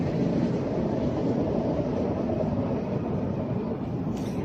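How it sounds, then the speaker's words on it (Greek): A train passes by near a walnut tree in the German countryside, a steady loud rumble of rolling wheels and carriages that holds evenly throughout and eases slightly at the end. "Και περνάει το τρένο."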